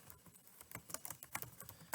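Quick, uneven keystrokes on a computer keyboard while entering a value for a Java array program, close and fairly quiet, with no voices over the clicks.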